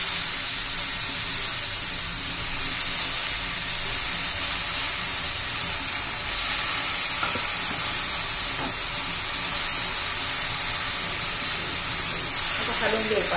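Spinach sizzles in a hot frying pan with turmeric and other spices, making a loud, steady hiss of steam and frying that runs the whole time, up close.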